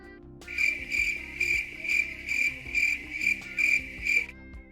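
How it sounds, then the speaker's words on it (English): Crickets chirp in a steady, regular rhythm of bright pulses, about eight bursts over a few seconds, with a low hum underneath. "Ah, there we go. Crickets."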